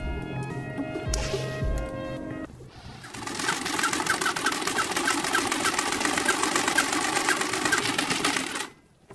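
A sewing machine runs at a steady, fairly loud rattling pace for around six seconds after a brief quieter passage with tonal sounds, then stops abruptly.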